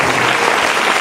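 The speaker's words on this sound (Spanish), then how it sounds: "Un aplauso poderoso al Señor" Loud, dense congregation applause in a church service, a thick continuous roar of many hands clapping close by with no gaps or speech.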